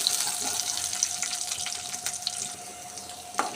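Onions fry in oil for peanut chutney, making a continuous soft hiss and crackle with scattered small pops and one sharper pop near the end, and no talking.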